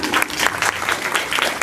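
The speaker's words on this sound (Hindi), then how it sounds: "मैं चाहता हूँ कि एक बार एक गणेश समिति का जोरदार ताली हो जाए।" A live audience at a village comedy program in India breaks into loud, sustained clapping from many hands, a dense, close burst of applause with no voices over it.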